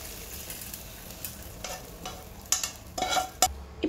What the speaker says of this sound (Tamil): கட் பண்ண வெண்டைக்காய் சேர்த்துட்டு அது கூடவே கொஞ்சமாக உப்பு போட்டு நல்லா வதக்கிக்கலாம்